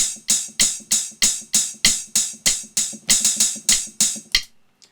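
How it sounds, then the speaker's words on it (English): Hi-hat hits played on a MIDI drum pad: about fifteen crisp, close, evenly spaced strikes in a steady groove with one quick double near the end. No other sound plays over them, and silence follows. "now I've played some hi-hats."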